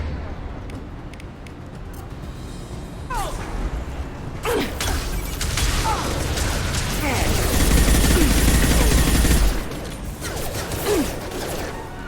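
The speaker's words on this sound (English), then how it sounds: "Firing a high impact shot." Gunfire in Mass Effect 2, a high-impact shot among rapid bursts of weapon fire and mechanical clatter, loud and busy with a heavy rumbling swell before it cuts off near the end.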